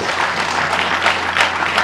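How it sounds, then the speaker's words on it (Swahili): An audience claps for prisoners at an Arusha prison entrepreneurship and business-skills training event, a dense, steady burst of close applause filling the short moment. "naomba tuwapigie makofi, na wao wajipigie makofi mengi sana"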